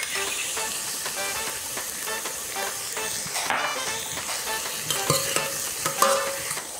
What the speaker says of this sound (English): And we've got the veg gently sauteed.